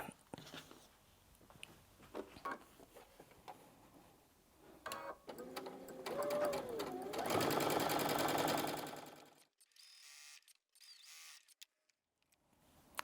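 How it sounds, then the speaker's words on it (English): Sewing machine stitching chain link quilt block fabric, starting with scattered clicks and short bursts, then a loud sustained whir of continuous stitching before it stops, leaving near silence and faint handling ticks. "now we'll go back to the machine and sew"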